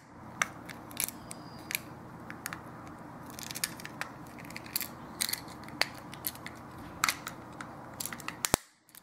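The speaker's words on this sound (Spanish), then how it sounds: "juntan las dos partes, oye un clic." Two halves of a Toyota Corolla remote key fob are pressed together, giving a series of sharp, close plastic clicks and snaps spread unevenly over several seconds, ending in a louder snap.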